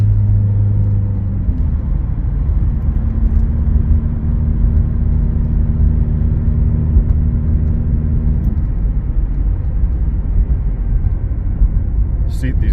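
A rebuilt Subaru Outback gives a steady engine hum and road rumble from inside the cabin, with a tonal drone that fades after several seconds as the car keeps rolling.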